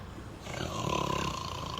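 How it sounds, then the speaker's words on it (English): A low, rumbling snore echoes through a bus depot, one drawn-out breath that swells and holds with a reverberant, hollow tone. "Definitely an echoey snore."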